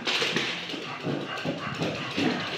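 A guard dog barking at passers-by outdoors, with several rough barks and yelps in an irregular rhythm at moderate distance.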